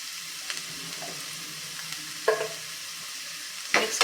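Tomato with salt sautés in a pan, a soft steady sizzle broken by a few sharp spatula scrapes and clinks, the louder ones landing near the middle and at the end, without voices.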